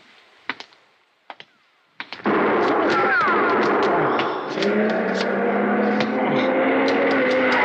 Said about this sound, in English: Shooting! You've been hit.